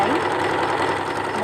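A sewing machine stitches a cloth face mask with a steady, close mechanical whir and fine rapid vibration that holds for the whole short stretch.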